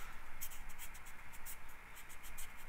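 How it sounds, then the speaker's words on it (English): A hobby knife slices along a foam edge at a 45 degree angle, making a close, soft, rhythmic scratchy scraping with repeated short strokes. "So take a hobby knife or razor blade and cut that at a 45 degree angle."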